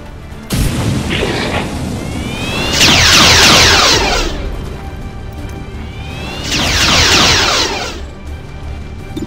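Incendiary grenades blast in XCOM 2 with the Long War 2 mod: two heavy booming explosions a few seconds apart, each a loud roaring burst of fire over a low rumbling battlefield background, with no talk.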